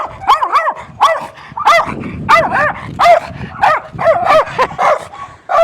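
A dog barks repeatedly in a quick, uneven series of loud, close yips and barks, with short gaps between bursts and no other sound.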